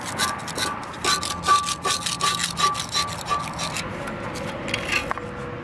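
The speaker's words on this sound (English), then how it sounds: "So we're gonna scrape this up a little bit and then see with the second pass with Super Clean what it" Scraping caked grease off a bellhousing, a run of close, rough rasping strokes, some quick and some drawn out, with metal-on-metal scratching and no talk over it.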